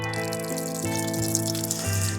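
Running water from a tap on a windy day during a walk around the world, a steady close splashing stream with a constant tonal hum underneath and a few louder bursts.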